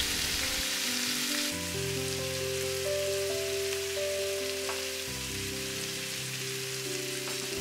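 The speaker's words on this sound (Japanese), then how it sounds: "フライパンにごま油を熱し、鶏もも肉とごぼうと人参を入れて中火で炒めます。" Chicken thigh, burdock and carrot stir-frying in sesame oil over medium heat, making a continuous rain-like sizzle with light crackle, close and alone beneath a musical tone that runs throughout.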